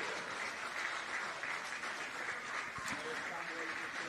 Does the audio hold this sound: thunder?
no